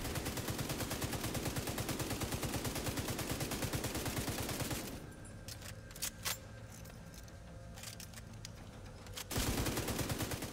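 Assault rifle fire in the shooter game The Division 2, long sustained automatic bursts with rapid even shots, then a pause with scattered clicks and clatter before heavy firing resumes.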